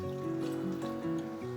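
Hot stock water is poured by the cup into a pot of beef pulao with rice; a quiet, steady trickle and splash is heard at close range under a faint background hum.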